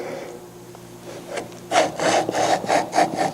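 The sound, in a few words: trimming a wood edge on a shooting board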